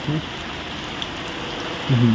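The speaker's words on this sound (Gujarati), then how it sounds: "જો વરસાદ ચાલુ થઈ ગયો" Steady rain hisses continuously in a village, with brief low voices at the start and end.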